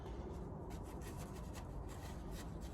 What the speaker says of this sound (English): We can just brush this on to anywhere we see rust